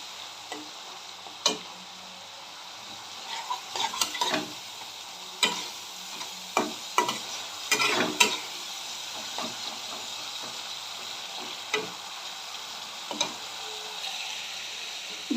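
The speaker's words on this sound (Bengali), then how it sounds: "যে টমেটোটা আমি গ্রেট করে রেখেছিলাম সেটা দিয়ে দিচ্ছি। ভালো করে আমি এখন কষিয়ে নেব।" Grated tomato sautéing in a pan, with a faint steady hiss of cooking under intermittent scraping and stirring clicks from a spoon, quiet and close.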